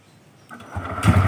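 A TVS motorcycle engine cranks and catches, a brief mechanical whir rising into a rough, close idle.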